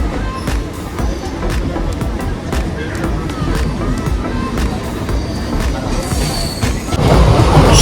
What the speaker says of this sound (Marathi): दादर विरार लोकल पकडतोय.